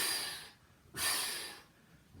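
Two forceful exhaled breaths during Pilates side-lying leg pulses, each a breathy hiss lasting about half a second, close and clear, with a short pause between them.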